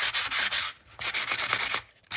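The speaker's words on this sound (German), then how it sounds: "Kann man auch Cardstock ein bisschen schleifen" Sandpaper rubbed across a cardstock journal cover, a dry rasping scrape in quick back-and-forth strokes with two short pauses, close and steady.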